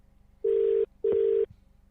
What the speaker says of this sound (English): Can you hear this ringing?